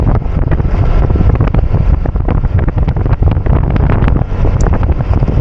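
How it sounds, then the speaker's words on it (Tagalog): Steady, loud wind roar buffeting the microphone throughout a motorcycle ride along a road in Southern Leyte, with dense low rumble and no speech. "Sarap ng simoy ng hangin"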